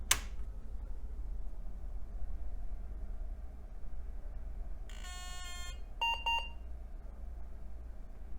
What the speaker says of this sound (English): I think that weird buzzing in the beginning is just it counting the RAM.